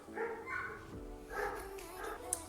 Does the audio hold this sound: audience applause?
no